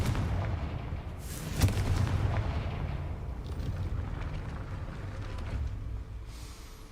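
A Confringo fire spell bursts in the Hogwarts Legacy video game, a loud rumbling blast with a sharp crack early on, followed by sustained booming roar and low rumble that fades toward the end.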